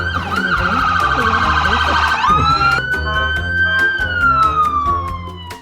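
A loud police siren wails close by in Skagway, shifting from a rapid yelp into a slow rising and falling tone, with clicking and rumbling underneath.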